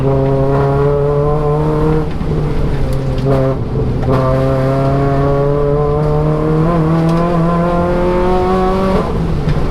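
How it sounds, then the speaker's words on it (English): A road-legal Renault Clio rally car engine revs hard and loud, its tone climbing steadily through the rev range, dipping briefly at gear changes, then rising again toward the top. "Oh, it gets to the top of that rev range."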